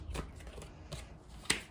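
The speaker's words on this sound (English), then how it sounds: "All right, and I am shuffling the cards." A deck of tarot cards is shuffled by hand, giving a few soft, quiet riffles and taps with a sharper snap near the end, heard alone without talk.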